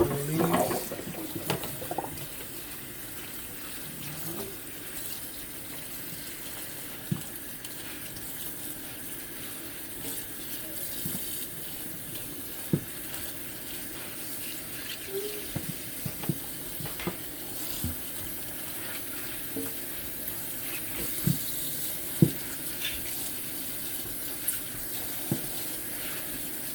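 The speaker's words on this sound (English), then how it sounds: "Just rinsing that out right there, and let the leaves get a nice little run." Tap water runs steadily over callaloo leaves being rinsed in a sink, a continuous hissing splash with small irregular clicks and knocks throughout, heard alone without talk.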